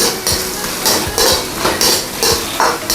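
A metal lid is lifted off a pot of cooking young corn, giving a series of close, sharp metallic clanks and rattles at an uneven rhythm.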